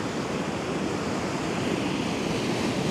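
Stormy sea waves and foamy surf at Arcadia beach in Odesa make a loud, continuous roar of breaking water mixed with wind buffeting close by, with no voices.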